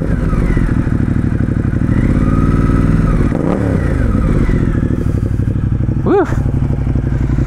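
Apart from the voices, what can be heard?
Ducati Monster 1200 S motorcycle engine revving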